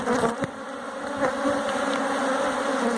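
Honeybees buzz steadily and densely around an open hive and its queen, a close, continuous drone filling the whole stretch without speech.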